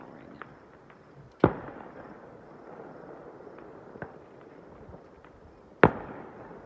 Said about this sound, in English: This guy's got the best fireworks.